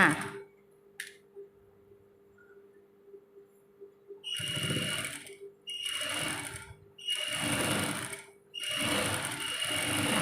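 A sewing machine stitches a fabric doll's arm in four loud bursts of whirring, each about a second long, after a quiet stretch with a faint steady hum.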